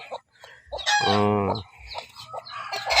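A chicken clucks and squawks up close, with one drawn-out crowing call in the middle among short clucks.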